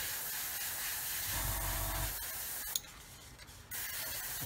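An airbrush at about 15 psi sprays paint onto a Revell 1/144 Apollo Saturn V model, a close, soft, steady hiss that cuts off briefly near the end before resuming.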